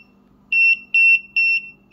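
An RF signal detector in a garage emits three steady, high-pitched beeps in an even rhythm, close and clear over a faint low hum.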